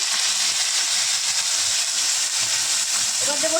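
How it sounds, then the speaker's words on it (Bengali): Curry leaves sizzle in hot oil while tempering spices for an eggplant dish, giving a loud, steady broadband hiss that runs unbroken from start to finish. "তেলের মধ্যে এবার আমরা দেব প্রথমে দেব কারি পাতা সব কারি পাতাগুলো দিয়ে দিলাম"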